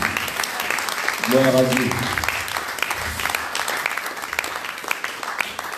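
Applause at a church ceremony honouring women servants, a steady wash of clapping from the congregation, briefly overlaid by a voice speaking, continuing evenly to the end.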